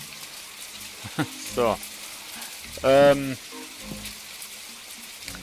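Steady rain hisses softly in the video game My Time at Portia, a continuous faint patter running beneath brief bursts of a man's speech.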